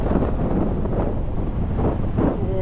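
Strong wind roaring across a microphone at a cliff edge above the crags, a loud continuous buffeting rush filling the whole stretch with no voices.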